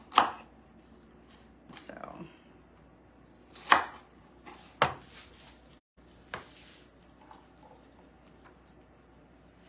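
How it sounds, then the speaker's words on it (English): A knife chops vegetables on a board, cutting them into strips for sheet pan fajitas, in about five sharp, separate strokes spread unevenly over several seconds, with a brief word spoken. "so I'm just going to cut this in half. And I'm going to just do a little strips."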